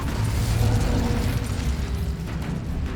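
Incendio fire spell cast in Hogwarts Legacy, a dense roaring, crackling whoosh of flame that holds steady and loud for a few seconds before easing slightly.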